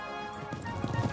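Horses' hooves clip-clop as riders travel back to Philadelphia, a series of soft irregular knocks building toward the end over a steady background hum.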